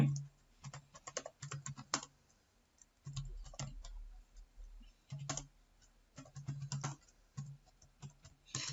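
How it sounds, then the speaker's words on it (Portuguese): Typing on a computer keyboard while working in LibreOffice: steady bursts of close, crisp key clicks with brief pauses between them, and a low hum underneath. "toda vez que eu digito algo aqui"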